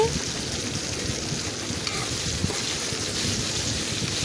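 Okra (ladies finger) pieces crackle steadily in hot oil as they are stirred around a pan for bhindi fry, with a continuous dense sizzle and soft scraping from the stirring, close and fairly loud.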